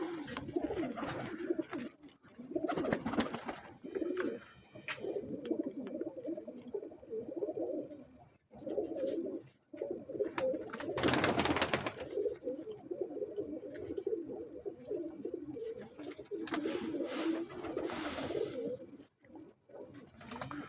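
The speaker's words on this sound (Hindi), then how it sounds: "तो ये इसकी कबूतरी है जी" Sialkoti pigeons, including a hen, coo in low, repeated throaty calls close by, with soft rustling and occasional sharper bursts of noise among the birds.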